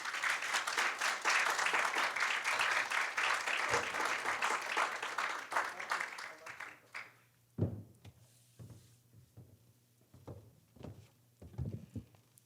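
Audience applauds to welcome a lecturer onto the stage at an art lecture, a dense sustained ovation lasting several seconds before fading into scattered claps, light thumps and footsteps.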